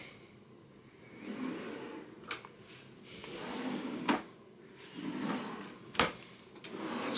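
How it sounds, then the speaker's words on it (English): Deep drawers in a cruise ship balcony cabin sliding open and shut, with rumbling slides and a few sharp thuds as they close, close by and without talk. "You have four drawers here."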